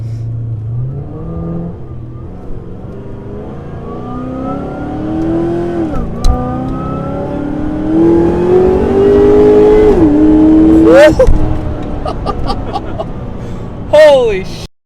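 A 500 wheel-horsepower supercharged Pontiac G8 pulls hard through several gears, engine pitch climbing and dropping at each shift, heard loud from inside the car with supercharger whine and voices over it.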